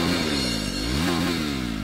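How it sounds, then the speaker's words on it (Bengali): A motorcycle engine turns over and runs in a rough, sputtering burst, close and steady, with a rising-falling pitch sweep as it catches. "মোটরসাইকেল স্টার্ট করতে হবে।"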